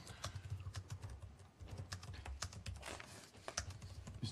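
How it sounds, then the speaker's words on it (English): Rapid, irregular keystrokes on a computer keyboard during a committee meeting, steady clicking throughout at moderate level with a low murmur of room noise beneath. "I know she's busy typing"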